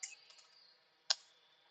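A few isolated key clicks on a computer keyboard, one near the start and one sharper tap a second later, close and quiet against a faint steady hum.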